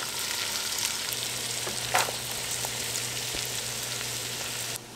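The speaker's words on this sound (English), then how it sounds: "We're now going to start sauteing the onions and the carrots" Onions and carrots sautéing in butter in a pot: a dense, steady sizzle with a few faint stirring clatters, close and fairly loud, ending abruptly near the end, with no talking.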